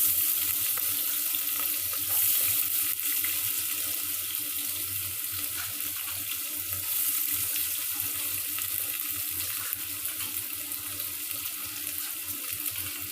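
Onions frying in a pan with curry leaves about to follow, a steady loud hiss and sizzle of hot oil holding evenly throughout with no talking.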